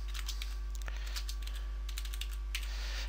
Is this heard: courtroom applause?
no